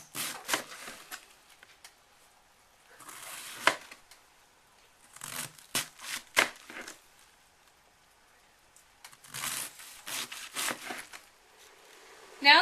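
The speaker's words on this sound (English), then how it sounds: "take your cabbage and cut it into fine little strips" A knife chops cabbage into fine strips on a cutting board, in bursts of quick, close crunching cuts separated by short pauses, with no talk over it.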